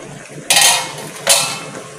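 Two bright metallic scrapes and clanks of a utensil against a pot while stirring ginataang tilapia, fish simmering in coconut milk, each ringing briefly before fading, close and fairly loud with no talk.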